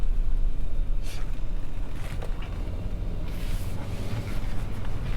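A 2019 RAM 2500 Kentucky Derby Limited pickup on air suspension swings through a U-turn at the end of a road, a steady close engine and tire-road rumble with brief swells.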